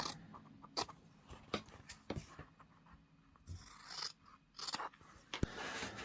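Scissors cut fabric squares for sewing, producing intermittent crunchy snips and sliding blade noises, some isolated and some in short bursts, close and fairly quiet.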